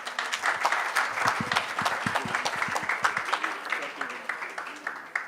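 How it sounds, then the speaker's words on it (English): An audience at an event gives a round of applause as a sponsor is called to the stage, dense clapping that builds and then fades, with a voice speaking over it. "Big round of applause."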